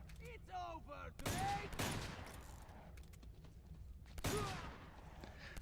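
Gunfire in the video game Uncharted 2, with two or three sharp shot bursts and explosive hits standing out from a quieter game background, and some voice sounds mixed in.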